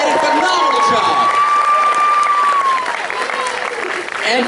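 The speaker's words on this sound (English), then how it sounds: "A massive round of applause for all of our contestants" Audience applause for contestants at a film screening Q&A event, a dense sustained clapping crowd lasting several seconds, with a whistle-like tone rising and falling above it and faint voices mixed in.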